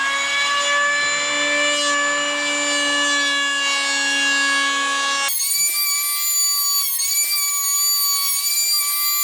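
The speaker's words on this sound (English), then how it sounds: "I'm cutting some red oak that I'll be using as the lids and the base of the boxes." A saw cuts red oak boards for box lids, its steady high whine running loud and continuous with no talk, then shifting pitch as the blade load changes partway through.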